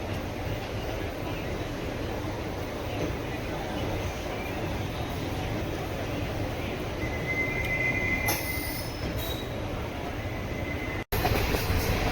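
The Chennai Egmore Express pulls into Virudhunagar station with a continuous rumble of rolling wheels, then high, sharp wheel squeals cut in near the end, followed by a brief dropout and a clunk.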